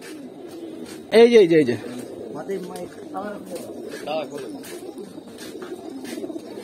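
Pigeons coo softly in a breeding room of a large home loft, low burbling calls scattered under someone talking nearby.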